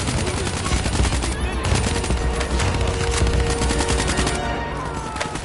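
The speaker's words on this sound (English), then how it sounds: "Give me some cover fire." Rapid automatic gunfire rattles without letup in the Call of Duty Black Ops 3 campaign, a loud, dense fusillade of overlapping shots and bursts filling the whole stretch.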